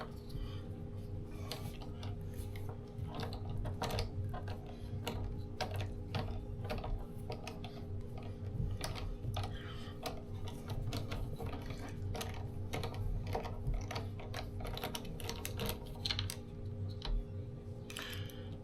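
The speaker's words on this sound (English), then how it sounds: "we're going to take out these 4 screws on the back." A small screwdriver removing the four back screws from a Tesla steering wheel, a steady stream of close, soft ratcheting clicks and ticks over a low hum, with no talking.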